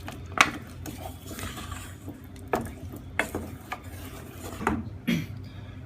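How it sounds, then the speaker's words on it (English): A utensil stirs chocolate melting in a pan, with scattered scrapes and clinks against the pan over a low background, no talking. "So stir it as well, just so it's mixing around well."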